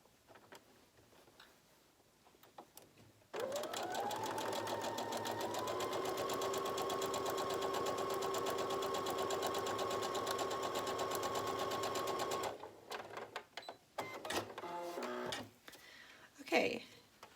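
A sewing machine stitches a scant quarter-inch seam on a surgical mask, a fast, even mechanical whirr running steadily for about nine seconds, with quiet handling and a faint voice before and after.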